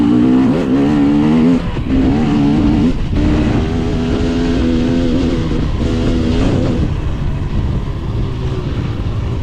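A KTM 300 dirt bike engine revs hard at full throttle on a hill climb during a hare scramble race, a loud, close, sustained roar with brief drops and rises as the gears shift.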